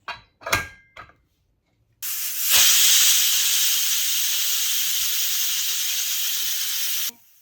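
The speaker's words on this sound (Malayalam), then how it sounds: "ഒരു വിസിൽ വന്നിട്ടുണ്ട് ഞാനിത് മാറ്റുകയാണ്" A pressure cooker cooking lemon pickle lets out a loud, sustained steam whistle and hiss for about five seconds, after a few short clanks and knocks.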